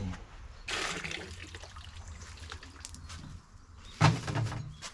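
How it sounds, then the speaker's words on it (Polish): Water pours into an 18-litre chicken waterer with a steady, rushing splash that runs for several seconds and swells into a louder gush near the end. "Zrobimy próbne zalanie, zobaczymy czy to spełnia swoją rolę. No to zalewamy."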